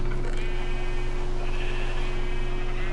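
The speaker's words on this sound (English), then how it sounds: "There's a sheep in here." A sheep in a building video game bleats once, a wavering nasal call over a dense, steady game soundtrack with constant droning tones underneath.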